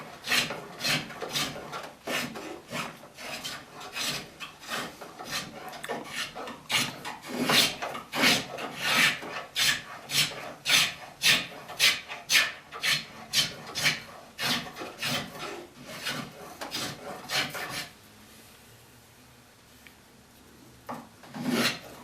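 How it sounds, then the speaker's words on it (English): A hand scraper working a wooden chair arm rail produces a quick run of rhythmic rasping strokes, close and steady for about eighteen seconds. A pause follows, then one last stroke. "Most of the time I have to go to the scraper to fix it up."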